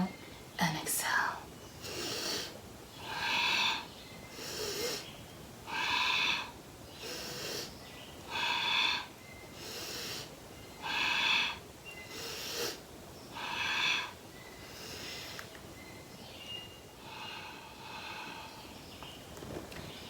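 Slow, deep yoga breaths during a spinal flex, a steady alternating rhythm of breathy inhales and exhales, close and soft with no talking.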